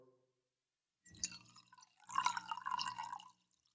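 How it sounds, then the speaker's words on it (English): Wine pours into a glass in two short bursts of splashing, trickling liquid separated by a pause, close and fairly quiet in an otherwise silent room. "We're going to go ahead and pour."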